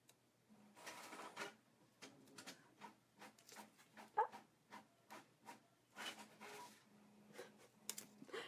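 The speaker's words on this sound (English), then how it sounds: "If you heard my printer going off." A printer running in a rapid series of short mechanical bursts and whirs, repeating steadily for several seconds at a moderate distance, with no talking.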